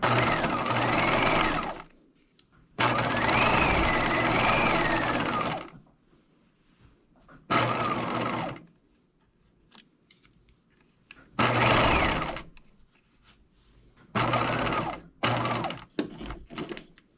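A sewing machine stitches a coat shoulder seam in several bursts, two longer runs followed by shorter ones, with quiet pauses between them, close and fairly loud.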